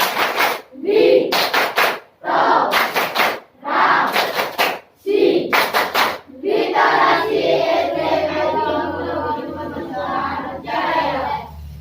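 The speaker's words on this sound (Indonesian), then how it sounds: "Nah, tepuk literasi." Elementary schoolchildren in a school library perform a rhythmic literacy clap, with loud, close patterned clap bursts separated by short pauses, followed by the group chanting together.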